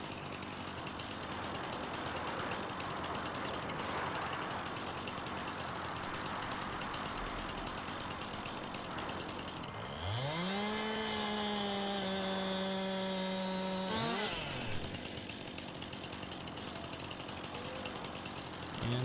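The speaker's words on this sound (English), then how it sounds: "plan B then, we're just gonna have to use a chainsaw" A chainsaw cuts a tree in the Farming Simulator 19 logging game. A low engine idles steadily, then revs up into a loud, sustained whine for about four seconds before dropping back to idle, with no talking.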